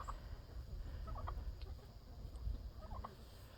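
A rooster and a turkey out in the snow make soft, faint clucks and short gobbling calls, scattered over low wind rumble.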